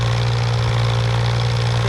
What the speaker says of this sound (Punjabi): ਟਰੈਕਟਰ ਚੱਲਦਾ ਦੇਖੋ ਪਰਫਾਰਮੈਂਸ